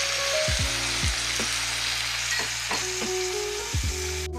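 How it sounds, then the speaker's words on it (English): Pasta sauce hitting a hot pan for mac and cheese lasagna, a constant loud sizzle with low tonal hums sweeping in and out and a few clicks, ending in a sharp burst. "Now we're going to add in our pasta sauce"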